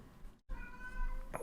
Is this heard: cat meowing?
yes